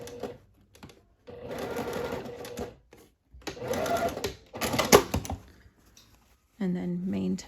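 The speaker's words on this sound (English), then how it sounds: "I'm going to open up and sew the lining to the lining and then the main to the main" Sewing machine stitching a half-inch seam joining lining to lining on a Fourth of July top, running in several bursts separated by pauses, close and clear, with brief speech near the end.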